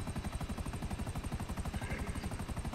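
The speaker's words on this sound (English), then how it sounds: "See the little helicopter." Helicopter in Grand Theft Auto V, a steady rhythmic rotor chop with engine whine, moderately loud and continuous throughout with no talk.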